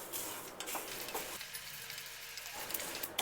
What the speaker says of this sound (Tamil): இப்போ இது கருகிராமல் லோ ஃப்ளேமில் வச்சு ட்ரை ரோஸ்ட் பண்ணணும்